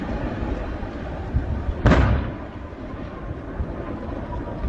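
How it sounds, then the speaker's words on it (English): A distant explosion rolls in as a single deep concussive boom over a constant low rumble of background noise, fading into a long, thundery tail. "Hear the concussions of the explosions"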